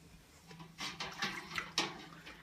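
Wort pours through a funnel into a carboy already holding a couple gallons of water, heard as a soft splashing gush in several quiet surges, with no one talking.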